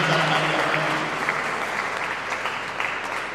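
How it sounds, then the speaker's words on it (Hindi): Steady applause from an audience at a school event, many hands clapping together in a dense, sustained wash that holds nearly level before easing slightly toward the end. "आदरणीय प्रमोद शर्मा जी के लिए जोरदार तालियां हो"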